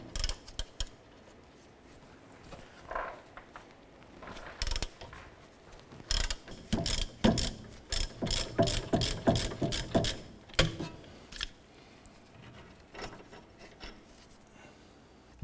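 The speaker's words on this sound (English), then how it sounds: "We're going to use our 17mm socket and ratchet to go ahead and loosen and remove our lower strut bolt here." A 17mm socket and ratchet work a lower strut bolt loose on a 2008-2012 Honda Accord. Quiet stretches give way to close clusters of sharp ratchet clicks and clanks, with no talk.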